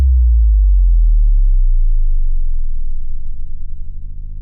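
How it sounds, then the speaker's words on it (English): A combined sub drop and sub riser in an electronic remix: a loud, deep sine-like boom that sweeps downward, then a low, wavering tone that slowly climbs and fades, alone and with no voices. "I'm doing a sub drop and a sub riser combo right here"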